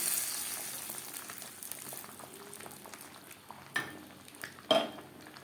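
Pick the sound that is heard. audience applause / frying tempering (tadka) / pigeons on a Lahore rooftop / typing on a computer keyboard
frying tempering (tadka)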